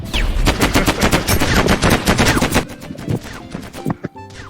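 In a space-war map of the Mini World Block Art game, rapid machine-gun fire hammers out a dense, loud burst for about two and a half seconds. Scattered single shots and impacts follow.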